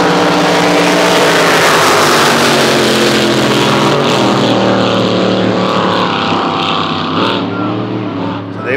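Racing powerboat engine at the Windsor power boat championship, Barra Turbo class, a loud sustained roar with steady harmonic drone that shifts pitch as the boat runs, filling the scene at close range.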